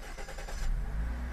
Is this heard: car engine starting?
yes